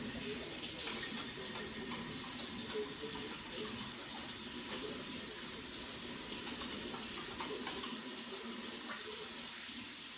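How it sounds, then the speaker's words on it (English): Hands lathered with soap under hot running tap water at a kitchen sink, a steady, even gush of water splashing for several seconds with slight shifts as the hands move through the stream. "Put soap and hot water."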